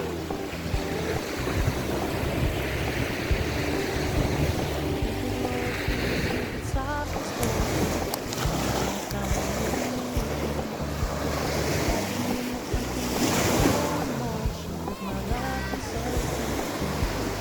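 Sea waves break steadily on an Italian shore under continuous broadband wash and wind buffeting, loud and close throughout, with faint voices briefly audible in the mix.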